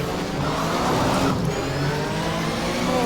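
A Porsche engine in a sim racing game revs hard on a downshift at the Jyllandsringen circuit, a loud, steady mid-pitched drone that holds for about three seconds with no talking.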